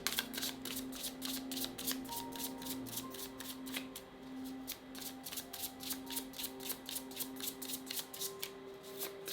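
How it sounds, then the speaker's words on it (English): Tarot cards are shuffled repeatedly, a quick run of crisp riffling snaps and taps that settle into an even rhythm, close and fairly quiet, with a faint tone in the background. "I feel like I gotta shuffle again."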